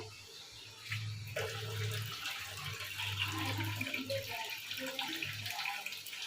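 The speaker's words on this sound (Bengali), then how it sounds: "এটা ধুয়ে একটুখানি জল দিই, কারণ মশলার মধ্যে লেগে আছে একটুখানি।" Water from a tap runs in short bursts as a pan used for cooking spices is rinsed and topped up, fairly close and quiet, with some clattering in between.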